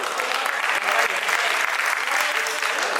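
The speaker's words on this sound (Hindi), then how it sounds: "नवाब साहब के लिए तालियां बजा दीजिए" Dense, steady applause from an audience at a mushaira, an Urdu poetry gathering, honouring the poet. Many hands clap continuously for about three seconds with no breaks.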